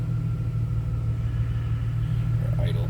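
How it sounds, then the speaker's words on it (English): A 2000 Plymouth Prowler engine idles with a steady low rumble throughout, nearby and even, with a faint higher sound near the end. "Nice car idles"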